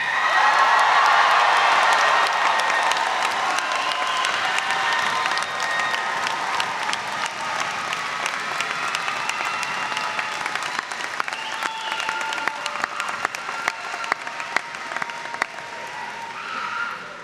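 A graduation commencement crowd of family, friends, professors and fellow students breaks into loud sustained applause with scattered cheers and whoops, slowly thinning into sparser clapping over about seventeen seconds.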